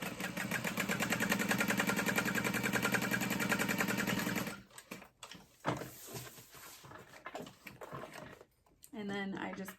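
A sewing machine runs a rapid, even stitching rhythm for about four seconds while sewing parallel lines on a backpack, then stops, leaving handling thumps and rustles and a brief final whir of the motor.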